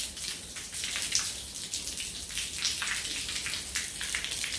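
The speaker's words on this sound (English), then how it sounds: "I want to wet this down, get some water on here" A pressure washer sprays water onto a garage floor, producing a continuous loud hiss with gritty splashing texture and no voices.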